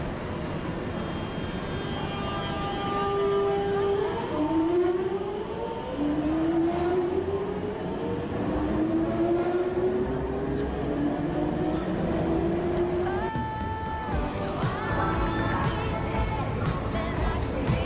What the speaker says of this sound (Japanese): ひっきりなしにたくさんの列車が発着します。